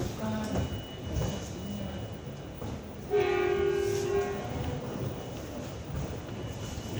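An LRT Jabodebek light-rail train runs at a restricted speed of about 20 km/h under automatic system control, with a steady rolling rumble. A clear tonal horn or whistle sounds for about a second partway through.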